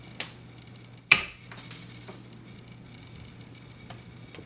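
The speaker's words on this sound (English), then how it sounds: "Then we'll get our bypass cutters. Bring down the wire nice and firm, and then cut it off just below the top set screw." Bypass cutters snip a wire while a wire turnbuckle is being installed, giving two sharp close clicks about a second apart, followed by a few faint ticks and small handling sounds.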